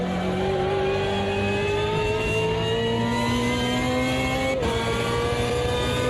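A historic BMW race car engine in the Automobilista 2 racing game at Road Atlanta revs steadily upward under load, rising in pitch, then briefly drops at a gear shift before climbing again; loud and continuous.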